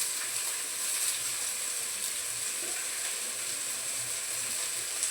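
Onions frying in coconut oil in a pan, giving a steady, even sizzle and hiss that runs unbroken throughout at moderate loudness, with no talking.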